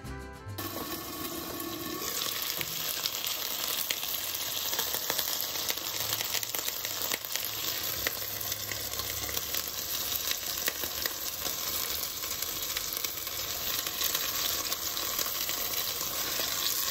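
Chicken pieces cooking in a pan, giving a steady, dense sizzle and hiss that runs unbroken and fairly loud from start to finish with no talking.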